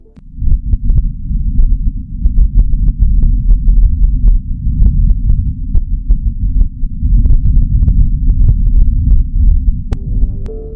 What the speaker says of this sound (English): here are some recordings captured by the Perseverance rover